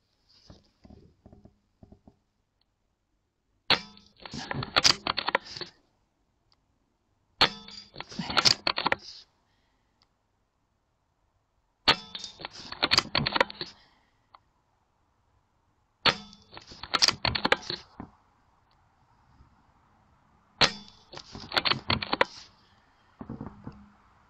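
Air rifle pellets fired at targets during a night and daytime scope comparison: five separate clusters of sharp clicks and metallic clatter, spaced a few seconds apart with quiet gaps between, close by and moderately loud.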